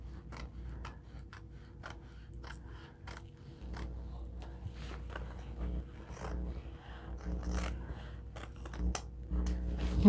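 Scissors snip through embroidered apron fabric beside a Tajima Sai multi-needle embroidery machine, giving a steady run of close, crisp cuts in an irregular rhythm over a low background hum.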